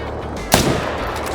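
A single loud, sharp rifle shot from the .300 in the hunting video game Call of the Wild cracks out mid-clip with a short booming tail, set against a steady low ambient hum.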